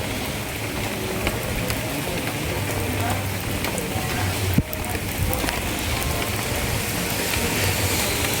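Steady rain falls across an outdoor resort, a dense even hiss that holds for the whole stretch with one brief sharp knock midway and faint voices underneath.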